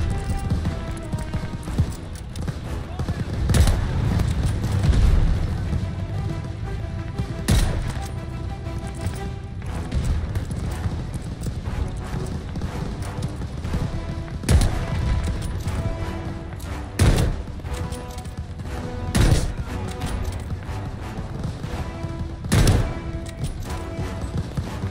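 Repeated sniper gunshots crack out at irregular intervals over a steady rumble of Call of Duty: Vanguard game sound, some in quick bursts, loud and sharp.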